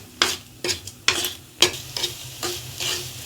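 A spoon scrapes and stirs semolina upma in a frying pan, about eight distinct scraping strokes in an uneven rhythm over a soft sizzle, close and fairly quiet, with no talking.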